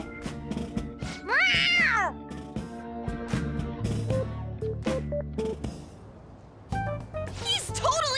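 In Persona 5 Royal, a cat gives a drawn-out meow, then a few shorter meows near the end, over game music and sound effects, with a voice speaking at times.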